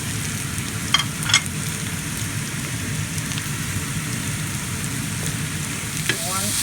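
Onions and mushrooms frying in a pan, a steady close sizzle with a few brief clinks and stirring scrapes scattered through it, with no talk.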